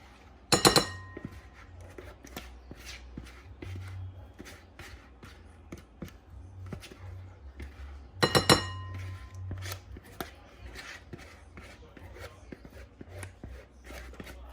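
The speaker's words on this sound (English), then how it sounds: "I use a scraper to get everything out. All that sauce out." Kitchen scraper working sauce out of a dish while preparing a shrimp topping for a Thanksgiving meal, with soft intermittent scrapes and taps plus two sharper metallic clinks, quiet and close.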